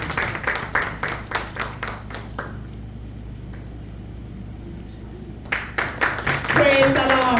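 A church congregation at a Sunday service claps rhythmically in bursts, pausing midway before picking up again, with voices rising toward the end.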